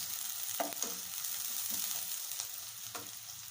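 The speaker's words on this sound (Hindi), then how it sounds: "2 प्याज काट के मैंने अभी इसमें डाल देनी है।" Chopped onions dropped into hot cooking oil, frying with a constant loud sizzle and crackle, with a few soft stirring clunks and bumps on top, close up with no talking.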